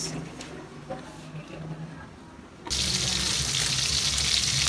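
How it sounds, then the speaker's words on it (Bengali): Taki fish frying in a pan, heard as a sudden loud, steady hiss and sizzle that starts partway through after a quieter stretch of faint kitchen noise. "মাছ ভাজার শব্দে বোঝাই যাচ্ছে যে টাকি মাছ ভাজা হচ্ছে"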